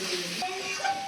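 Ash gourd and potato pieces sizzle steadily in a frying pan, a close, even crackle of hot oil with faint stirring.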